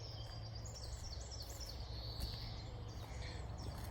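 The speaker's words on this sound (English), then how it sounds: "That twittering is a greenfinch" A greenfinch twitters in a sunlit glade with cow parsley under a tree: a string of quick, thin chirps and trills, fairly distant and soft, over a steady low hum of background noise and faint insect-like buzz.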